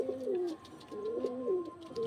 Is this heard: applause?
no